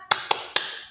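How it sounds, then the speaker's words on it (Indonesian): Three sharp hand claps in a classroom 'tepuk semangat' clap routine, evenly spaced and close, ringing briefly in a small room with nothing else around them. "kita tepuk semangat dulu ya"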